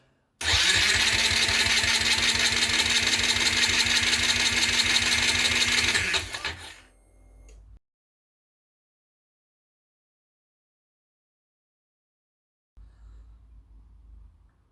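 A Honda Varadero XL125 V-twin cranks on its starter with a spark plug removed for a compression test. A loud, steady, pulsing whir runs for about six seconds and then cuts off, followed by silence and a faint low rumble at the end.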